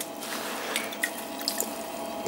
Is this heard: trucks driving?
no